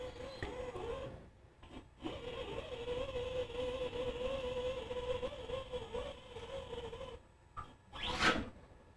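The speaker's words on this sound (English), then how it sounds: "we should see the yaw axis move" A Prosimu T1000 5M 4DOF motion simulator turning on its yaw axis gives a steady electric motor whine that holds for several seconds, then cuts off, followed by a short, louder mechanical clunk near the end.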